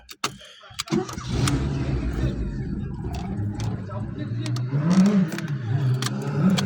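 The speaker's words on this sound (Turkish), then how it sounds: "Şimdi bir daha çalıştıracağım aracımı." A Tipo car engine, prone to stalling, cranks and catches after a short quiet gap, then settles into a steady close rumble with faint rises and dips, recorded just after tie rod arm and boot work with the steering turned full right.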